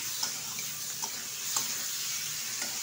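Mourala fish and chopped coriander being stirred in a frying pan, a steady soft sizzle with a few faint scraping stirs, close and without voices.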